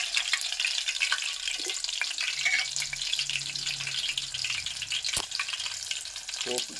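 Cumin seeds crackle and sizzle in hot tempering oil, a steady close frying hiss throughout with faint scattered pops and a brief sharp click near the end.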